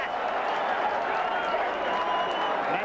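Port football crowd at a 1996 match against the Eagles, a broad, steady roar of cheering and applause that hangs at a constant level throughout with no single voice standing out.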